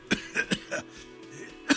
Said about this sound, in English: The aging cryptozoologist breaks into a hideous coughing fit.